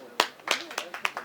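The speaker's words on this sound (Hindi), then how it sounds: "जोरदार तालियां बजा दीजिए।" A handful of separate, sharp claps from an audience at a film event ring out one after another at an uneven pace, with a voice speaking between them.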